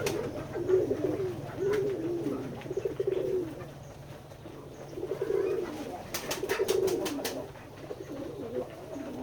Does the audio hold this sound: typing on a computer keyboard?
no